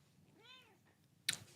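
Cat giving a single clear, drawn-out meow, faint and mid-distance in a quiet room, followed by a brief sharp clatter.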